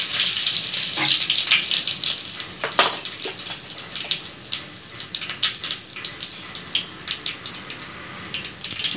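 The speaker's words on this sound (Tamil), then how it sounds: "எண்ணெய் சூடாயிடுச்சு, கடுகு போட்டுக்கலாம்." Mustard seeds, dried red chillies and curry leaves hit hot oil for a tempering, a loud, close sputtering hiss scattered with rapid crackles and pops that thin out as it settles.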